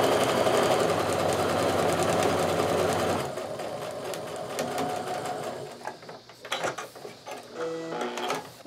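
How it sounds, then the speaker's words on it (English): A sewing machine stitches a quilt block seam, running loud and steady for about three seconds, then stopping and giving way to quieter handling clicks and short mechanical bursts. "I'm going to flip this around, sew down the other side."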